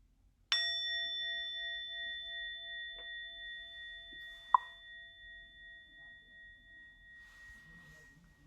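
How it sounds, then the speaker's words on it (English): A Plum Village meditation bell is struck once and rings out in a long, clear, sustained tone that slowly fades. A second lighter tap sounds midway through, and no one speaks. "I'll ring this bell from Plum Village"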